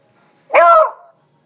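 A single short, loud yelp-like bark from a small puppy begging for food, close to the mic, alone with no talk.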